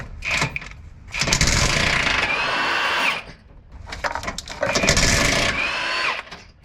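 Hyper Tough 1/2-inch brushless impact wrench working bolts during a gearbox and power steering pump swap on a Jeep WJ Grand Cherokee: two loud, close, rattling hammering bursts of about two seconds each, with a brief pause between them.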